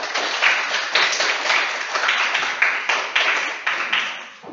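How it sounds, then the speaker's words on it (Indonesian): A classroom of students claps together in a lively, uneven round, with individual hand claps audible within the steady group applause from start to finish. "Tepuk tangan untuk kita semua."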